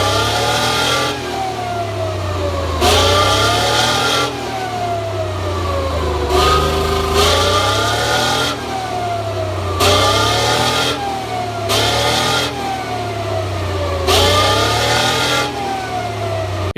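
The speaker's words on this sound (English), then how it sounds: "you can hear the beautiful, mighty song from Leyland L60 multi-fuel engine installed in the Chieftain tank" A Leyland L60 multi-fuel engine in a Chieftain tank revs again and again in steady cycles, its loud mechanical roar surging and falling every few seconds.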